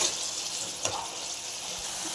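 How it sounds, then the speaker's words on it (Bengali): Matar paneer masala being stir-fried in a pan, a constant oily sizzle with one soft spatula scrape partway through. "দেখো ভালো করে কষিয়ে নেব।"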